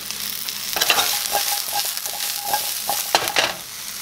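Mushrooms fry in a hot oiled pan beside salmon, a close crackling sizzle with intermittent stirring scrapes and small knocks against the pan, busy and fairly loud.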